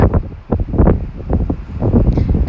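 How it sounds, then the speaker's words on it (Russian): Strong wind blowing outdoors on a Moscow street, roaring continuously into the microphone in loud buffeting gusts that fill the whole stretch. "Нифига тут ветрище какое-то будет"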